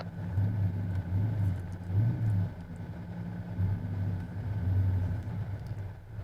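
Race car engine rolling out in first gear along pit road, a close low rumbling drone that swells and eases in repeated surges of throttle, no talk.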